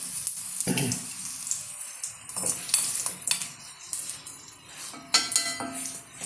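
Two dried red chillies frying in hot oil after mustard seeds have popped, an uneven sizzle with scattered sharp crackles and stirring sounds, close and fairly loud, without speech.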